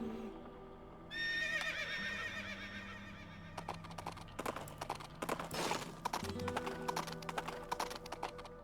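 A horse whinnies loudly in Princess Peach Showtime!, then rapid hoofbeats clatter in a galloping rhythm, game-like and close, with tonal music or effects humming underneath.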